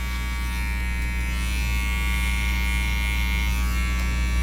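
Hair clippers with the guard closed outline the start of a no-guard fade haircut, a continuous close, even electric buzz with a strong low hum and no talking over it.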